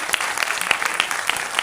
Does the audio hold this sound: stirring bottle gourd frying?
no